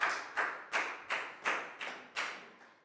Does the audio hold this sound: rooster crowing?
no